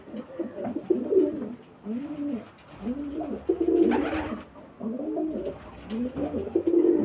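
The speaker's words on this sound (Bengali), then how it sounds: "প্রচুর পায়রা আছে" Several pigeons coo repeatedly and close by at a pigeon seller's loft, their soft, rolling calls overlapping in a steady rhythm.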